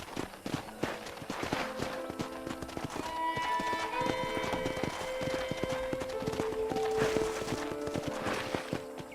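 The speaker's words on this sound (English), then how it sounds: "I picked out a fine horse for you" Horse hooves clip-clop steadily at a walking pace in Red Dead Redemption, a ranch setting with faint tonal music and ambient game sound running underneath.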